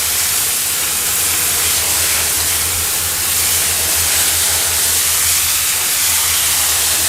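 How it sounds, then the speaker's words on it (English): Dirt and spent bullets being rinsed in a pan with water, a loud continuous hissing rush of spray and sloshing that holds steady throughout, close up with no voices. "I'm going to rinse my bullet ore. Kind of like gold, putting it through the pan."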